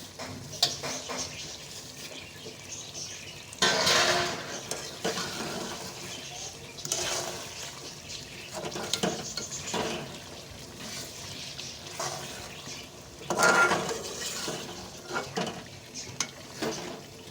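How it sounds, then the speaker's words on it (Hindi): Potato slices being tossed with homemade pickle masala in a pan, with repeated wet scraping and stirring strokes and occasional louder bursts of clatter against the metal, close up and with no voices. "ये हमने इसमें अचार का मसाला मिक्स कर दिया है।"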